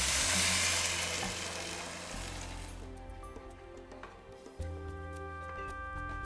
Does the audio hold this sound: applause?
no